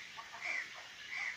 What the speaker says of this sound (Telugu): ఒక పుంజు ఉంది